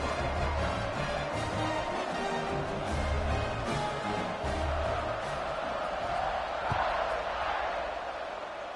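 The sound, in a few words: football stadium crowd cheering at kickoff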